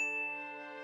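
A single bright notification bell ding rings out alone, its clear tone sustaining and slowly fading over under a second.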